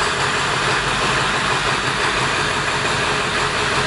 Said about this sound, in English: Alright, so we got the vehicle running.